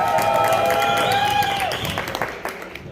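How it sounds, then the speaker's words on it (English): Crowd applause at a Sindhi Cultural Day event at a medical university, clapping and some cheering over a held tonal sound, fading toward the end. "We need a big round of applause for you guys to celebrate this wonderful Sindhi Cultural Day."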